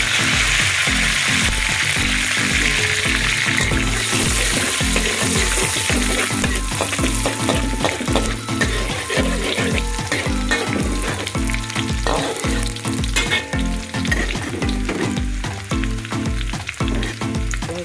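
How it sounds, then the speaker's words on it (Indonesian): Shallots and curry leaves fry in hot oil for an Acehnese fish and banana curry, giving a loud, steady, close sizzle with rhythmic scraping of a utensil stirring against the pan throughout. "saya udah panasin minyaknya pun sudah panas. Kita masukkan bawang merahnya dan daun karinya."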